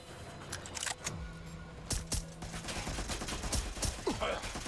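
A paintball gun fires rapid volleys in the Watch Dogs: Legion video game, with sharp repeated pops in bursts and dense game noise around them.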